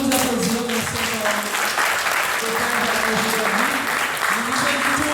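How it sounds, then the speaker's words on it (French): An audience at a regional gathering in Guadeloupe claps in sustained, full applause, loud and close, with voices murmuring and calling out beneath the clapping. "Merci, vous pouvez vous applaudir."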